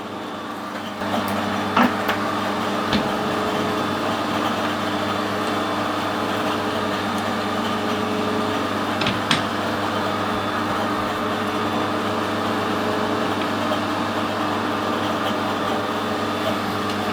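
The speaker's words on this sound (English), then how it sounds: "use a parting tool now to machine the other side" Parting tool of high-speed steel cutting a weld-built-up steel thread on a lathe, a steady drone with a constant hum and grinding hiss, occasional sharp clicks and knocks, close and continuous with no talk.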